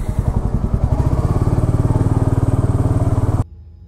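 A motorcycle engine throbs loud and close in a steady, rapid pulse while riding, then cuts off abruptly just before the end.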